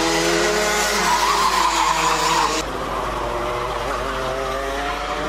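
Racing karts in a Minimax-class final whine past on the track, a loud droning engine note with a shifting pitch that cuts abruptly to a quieter, steadier kart sound.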